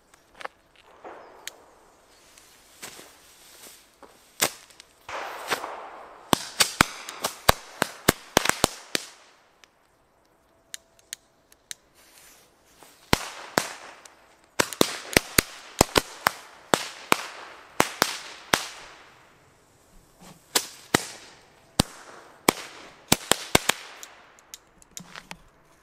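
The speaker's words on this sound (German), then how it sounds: "jetzt die Funke Frösche B. Das sind die besten und die knallen auch und die springen auch wirklich" Jumping firecrackers crackle and bang outdoors in irregular bursts, sharp loud pops clustering into rapid volleys with short pauses between them, going on throughout.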